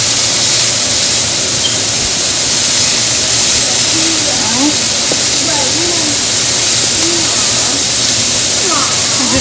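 Hamburger patties seasoned with salt sizzle in a hot pan with a loud, dense, steady hiss. A voice speaks softly beneath it.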